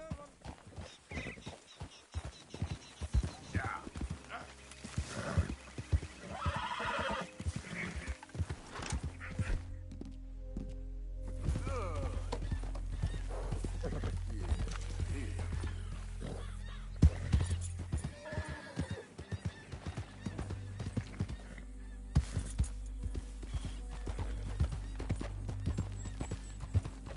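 Horse whinnying and hooves clip-clopping in the Red Dead video game, neighs rising over a steady walking clatter of hooves with a low rumble beneath, fairly close and moderately loud throughout.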